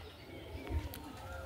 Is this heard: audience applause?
no